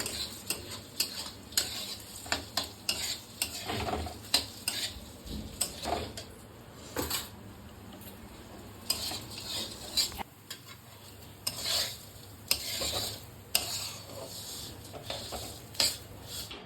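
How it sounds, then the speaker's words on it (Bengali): Flattened rice (chira) stir-fried in a pan for a breakfast dish, with repeated scraping and clattering of a spatula against the pan and a faint sizzle, fairly close, in an uneven stirring rhythm. "আর এখন সব ভাজা হয়ে গেছে। এখন আমি দিয়ে দেবো চিড়ে।"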